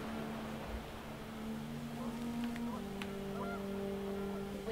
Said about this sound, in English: The wind picked up, and panic geese appeared and quickly went.